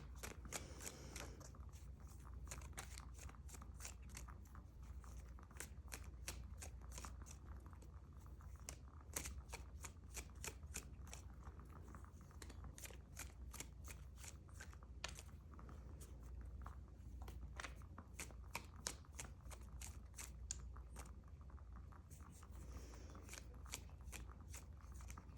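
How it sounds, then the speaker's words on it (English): Tarot cards shuffled over and over at close range, with rapid runs of soft riffling clicks, quiet and steady with no talking. "now let's get some tarot cards out"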